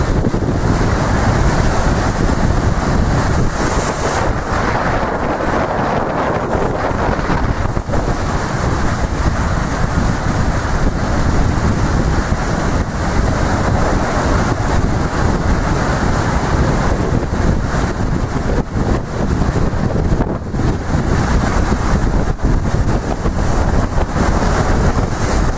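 A strong, constant storm wind roars over a beach at Lyubimovka, with heavy surf pounding beneath it in a dense, unbroken wash of noise and buffeting gusts hitting the microphone throughout.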